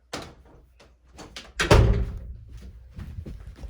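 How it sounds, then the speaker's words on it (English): A house's front door swings shut with one solid, close thud, preceded by light rattling and handling noises and followed by a short, fading rumble. "front door."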